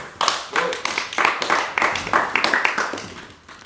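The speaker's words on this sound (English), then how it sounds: "That was such a bitch ass clap you guys did there" A small audience in a seminar room gives thin, scattered clapping, individual claps audible as a patchy, uneven patter that slowly thins out.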